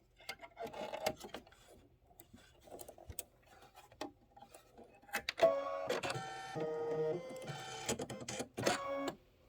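An embroidery machine stitching a placement line for a quilted pillow block, quiet ticking at first, then a loud, rapid mechanical rattling hum of stitching close up.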